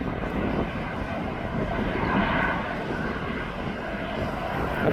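An airliner turns onto runway 9 at East Midlands Airport, its engines giving a steady, fairly loud broadband roar with a whining tone throughout.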